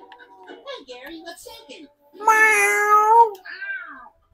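A human voice imitating a cat, giving two drawn-out meows close up, the second louder and longer, with brief chatter before.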